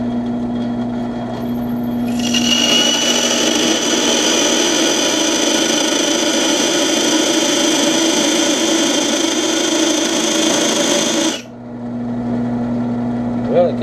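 A drill runs at a steady high whine for about nine seconds while a bit bores into a steel knife blank, starting abruptly and cutting off sharply, with a constant lower hum continuing before and after.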